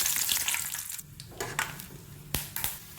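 Peanuts dropped into hot oil for tempering, a close crackling sizzle with several sharp pops and spatters over a low background hum.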